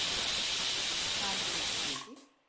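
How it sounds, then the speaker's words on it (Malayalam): A pressure cooker of carrots on a kitchen stove lets out a loud, continuous steam hiss that cuts off abruptly after about two seconds, leaving silence. "ഇനി ഇതൊന്ന് അതിൻ്റെ പ്രഷറൊക്കെ ഒന്ന് പോയി ഒന്ന് കൂളാവണം"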